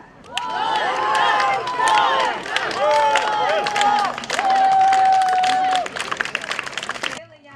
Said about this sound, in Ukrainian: Молодят Дмитра та Наталю привітали на заході гучними оплесками та традиційним гірко